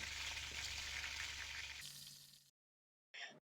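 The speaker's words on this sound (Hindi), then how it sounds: "अब इसी तरह से मीडियम फ्लेम पर साइड चेंज करते हुए हम इन्हें अच्छे से क्रिस्पी होने तक फ्राई कर लेंगे।" Qureshi seekh kababs fry in oil over a medium flame, a close, dense crackling sizzle that thins out, breaks off into silence, then briefly returns.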